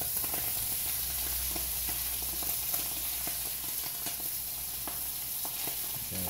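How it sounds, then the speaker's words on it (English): Garlic lemon Alaskan sockeye salmon fries in oil in a pan, giving a steady, close crackling sizzle dotted with small pops that runs unbroken throughout, with no talking. "we'll put the fish right in that oil to cook on the sides a little bit"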